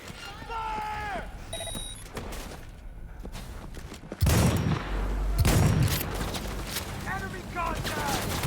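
Gunfire in the video game Cyberpunk 2077, loud rapid bursts of shots with booming impacts dominating the second half, mixed with game sound effects and voices shouting over the action.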